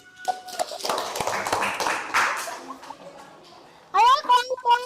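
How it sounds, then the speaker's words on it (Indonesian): Schoolchildren applauding in a classroom after a group presentation, a burst of dense hand clapping that fades out, with a teacher's voice speaking before and after. "Beri tepuk tangan."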